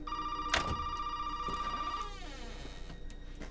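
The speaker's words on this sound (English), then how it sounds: "I guess I have to answer that phone, then" A telephone rings in the Resident Evil 7 demo, a loud, steady electronic-bell tone that holds for about two seconds and then cuts off, leaving a low, eerie ambient hum behind it.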